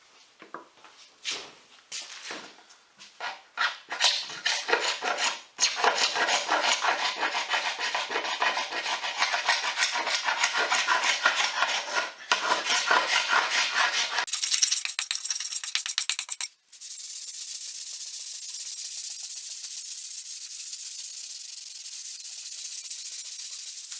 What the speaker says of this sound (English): I'm going to grab a scraper and get the glue off the back and light sand this